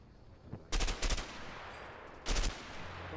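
Video game M16 burst-fire assault rifle shooting in A Way Out: two quick loud bursts close together, a pause, then a third burst, over a low ambient game bed.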